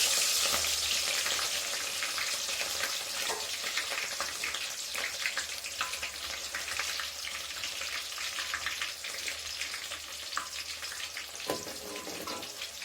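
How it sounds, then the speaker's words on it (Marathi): Onion frying in a pan with oil and a bay leaf for matar paneer, giving a dense, crackling sizzle that stays steady throughout, with a few soft stirring knocks, close and moderately loud with no talking. "कांदा छान लालसर होऊ देते याला."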